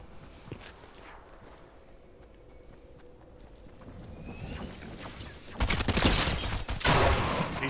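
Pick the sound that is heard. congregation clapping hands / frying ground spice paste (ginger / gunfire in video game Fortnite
gunfire in video game Fortnite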